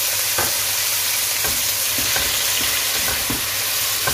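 Chicken sizzles steadily in a pan as garlic ginger paste is stirred in, a spoon scraping the pan in several distinct strokes over the constant frying hiss.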